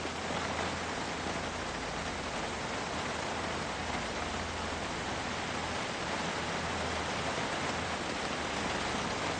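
Steady, loud rain from Project Zomboid fills the whole stretch, a dense even hiss of drops on surfaces with a low rumble underneath and no voices.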